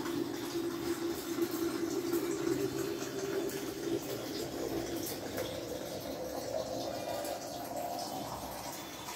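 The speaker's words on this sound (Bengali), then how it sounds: "জল ভরা হয়ে গেল" Water running into a bottle, a continuous hollow pouring rush whose pitch slowly rises as the bottle fills, moderately close against a faint background, with no talk.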